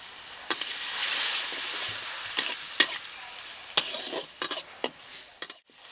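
Spice paste of cumin and chilli powders with a little water being sautéed in a pan for a prawn bhuna, a sizzling hiss broken by repeated sharp scrapes and taps of a spoon stirring, close up and without speech.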